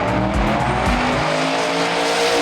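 A Chevy drag racing truck launches off the line at a Street Eliminator drag race, its engine roaring loud and close. It opens with a couple of heavy low revving bursts, then settles into a sustained hard pull, with no talk over it.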